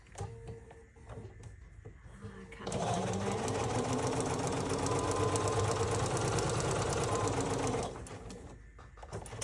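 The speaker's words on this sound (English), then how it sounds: "Let's sew that." A sewing machine stitches a quilt block for a dragon fruit block-of-the-month quilt, a fast, even mechanical whir running steadily for about five seconds at close range, with quieter room sounds before and after.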